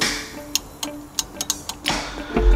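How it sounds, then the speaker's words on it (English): Sharp clicking from a drag car's faulty transmission brake solenoid trying to bump: about eight dry ticks at an uneven pace, fairly close, over a low steady hum. "my thought is that something wrong on the trans brake solenoid, because I can hear it trying to bump"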